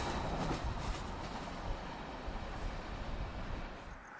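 A CSX freight train, Q606-23, about 8,711 feet long, rolls past nearby with a steady, loud rumble of wheels and railcars, faint clickety-clack, and no voices over it.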